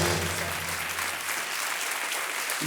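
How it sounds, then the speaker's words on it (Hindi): A studio audience on an Indian TV quiz show breaks into dense, steady applause, loud and continuous throughout with no pauses. "तालियां बज जाए"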